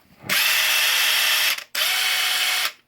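A Makita XWT08 brushless high-torque impact wrench runs at speed 2 in two loud, steady bursts of about 1.3 and 1 seconds, split by a short pause, with a rough, buzzing ratchet-like hammering.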